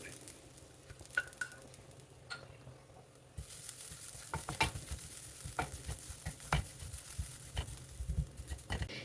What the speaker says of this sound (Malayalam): ആദ്യം തന്നെ നമുക്ക് തേങ്ങ ഒന്ന് വറുത്തെടുക്കാം.